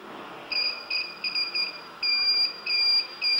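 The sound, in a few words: homemade continuity tester buzzer beeping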